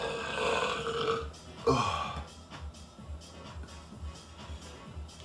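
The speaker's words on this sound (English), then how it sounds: "That was a crazy burp, bro." A man lets out a loud, drawn-out burp that rumbles for over a second, then trails off into quieter breathy sounds and soft shuffling.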